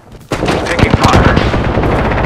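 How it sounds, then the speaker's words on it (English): Loud, close rapid gunfire in an Apex Legends match, a dense burst of shots firing continuously for about two seconds, with a voice in the background. "Taking fire."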